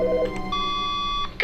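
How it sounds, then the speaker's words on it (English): A phone rings in the video game The Stanley Parable, a steady electronic tone held for about a second with a short burst at the end, heard alone without talk. "Their phone ringing?"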